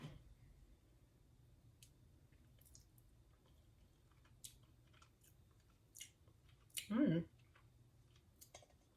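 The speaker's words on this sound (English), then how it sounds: "So I'm going to do a little taste test here." Someone tastes basil pesto made without garlic, with soft, wet chewing and faint mouth clicks heard up close in a quiet room, rising to a brief louder munch near the end.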